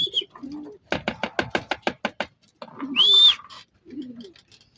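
Close racing pigeon coos open and close the clip, with a quick run of rhythmic flapping or clapping in between and a brief whistled call.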